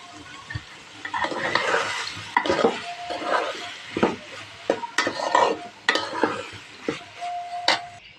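Home-grown capsicum tossed into a frying pan with green chillies for chicken vegetable fried rice sizzles loudly up close, with repeated clattering stirs and scrapes of a spatula against the pan.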